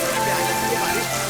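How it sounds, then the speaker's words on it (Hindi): Heavy rain pours down on a village, a dense, steady hiss of falling water that stays even and close throughout the short moment. "आज अपने गांव में इतने जोरों की बारिश हो रही है"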